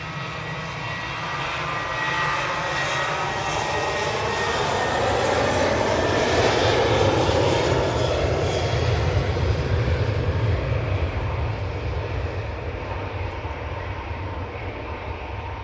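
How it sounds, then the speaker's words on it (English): A TUI Boeing 737-800 jet airliner with split scimitar winglets passes with a loud, sustained jet-engine roar that swells toward the middle and then eases, with a sweeping tonal whine running through it. "737-800 with split scimitars."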